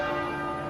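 Church bells peal across Britain at noon to mark the Queen's death, a dense, sustained metallic ringing heard loud and continuous throughout a very brief moment.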